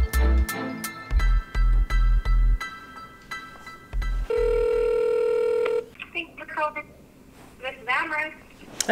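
Telephone call from a storage unit auction business: a run of keypad tones, then a long steady ringback tone, then a voice answering and conversation, close and clear.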